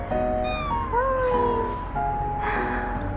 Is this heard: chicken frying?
no